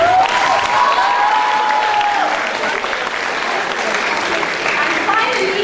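An audience applauds at a school drama event, dense sustained clapping throughout with a few voices and cheers mixed in.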